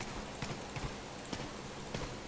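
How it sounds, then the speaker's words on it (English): Footsteps walking through rain for video game sound design, a handful of irregular soft thuds and splashes spaced about half a second apart over a constant bed of rainfall. "We're going to walk through the rain."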